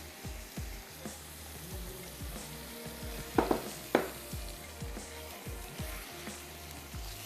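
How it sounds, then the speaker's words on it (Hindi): Shrimp sizzling in a pan over a high flame while being stirred, with a steady frying hiss, rhythmic scraping and stirring knocks, and a couple of sharper clanks of a utensil against the pan midway. "चलिए अब हम इसमें ऐड कर देते हैं ये झींगे शामिल कर लेते हैं, और थोड़ा सा हाई फ्लेम पर ही हम इसको कर लेंगे फ्राई।"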